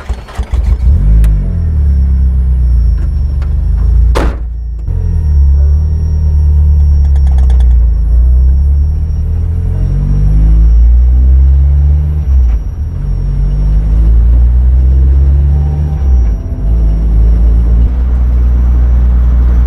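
A big-turbo Mazda Miata with a 1.6 engine, tuned past 300 horsepower, revs hard and loud in long sustained pulls with rising and falling pitch, heard up close with no talk.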